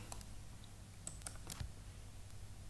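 Keystrokes on a computer keyboard while entering a line length in CAD software, a few sparse, light clicks at close range over a low steady hum.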